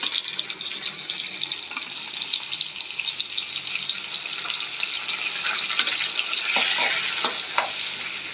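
Tomatoes sauté in a pan with small onions for sundakkai kuzhambu, giving a soft, continuous sizzle and crackle. A few clinks of stirring come near the end, and no one speaks.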